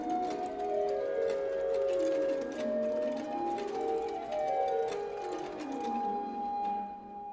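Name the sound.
Bach BWV 607 middle voices played alone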